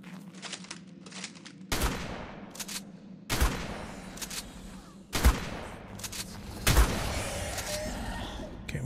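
Gunfire in the video game Ark: repeated loud bursts of shots in four or five clusters, each a sharp crack trailing into rumbling echo, close and dominant.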